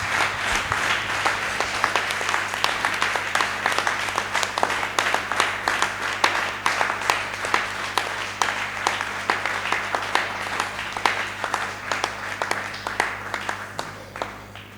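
A church congregation at a Sunday service in Godomey, Benin, applauding for the Lord: dense, sustained clapping from many hands that fills the room for the whole stretch, slowly thinning toward the end.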